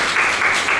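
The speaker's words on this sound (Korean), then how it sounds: "박수" Brief, loud applause sounds in a lecture hall during a system programming class, a short burst of clapping close to the microphone.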